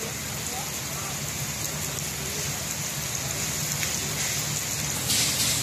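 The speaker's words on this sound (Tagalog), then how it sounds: "Malakas yung ulan niya dito." Heavy rain pours steadily on a surface nearby, a dense, unbroken hiss with a faint low hum underneath, after earlier thunder and lightning.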